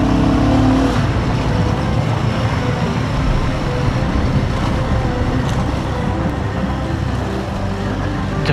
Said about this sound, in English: The engine must sound lovely.